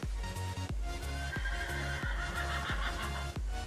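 A horse in the Minecraft video game whinnies and snorts repeatedly in short, sharp bursts over a low rhythmic game background, fairly quiet overall.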